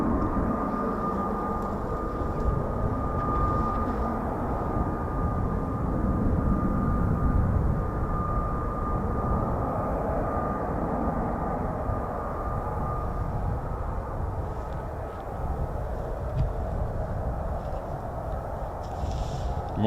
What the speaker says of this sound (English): we've got 2 more F-35Bs to depart.